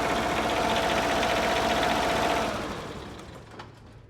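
A Kohler KDW diesel engine on a Wacker Neuson light tower runs loud and close at steady speed, then the steady drone fades and drops to a quieter level with a brief knock near the end.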